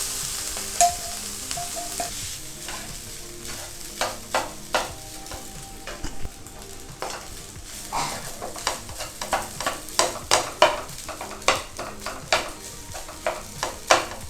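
Cooked basmati rice with cumin being stirred in a pan for fried rice, giving repeated spatula scrapes and taps in an uneven rhythm over a low sizzle, close and clear.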